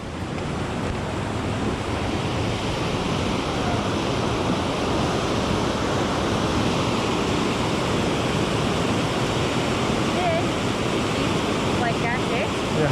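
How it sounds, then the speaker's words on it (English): The Little Yoho River rushes nearby, a loud, continuous broadband roar of churning water that holds steady throughout with no voices over it. "the roar of the Little Yoho River grows louder, leading you toward a sturdy bridge that spans its rushing waters"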